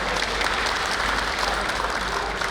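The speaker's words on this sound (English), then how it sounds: "I think you guys deserve a big round of applause" Audience applause at a company inauguration, steady dense clapping from a crowd filling the room at constant loudness throughout.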